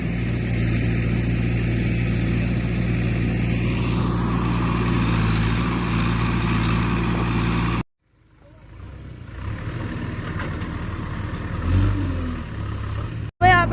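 A farm tractor's engine runs with a steady low rumble and harmonic drone at close range, then cuts out briefly before resuming idling with a short rise in pitch.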